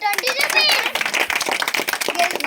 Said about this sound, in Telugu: క్లాప్స్ కొడదామా